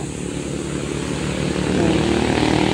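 Motorcycles speeding past on a tree-lined road in San Mateo, Rizal, a steady loud engine drone that swells slightly as they draw closer, with no talk.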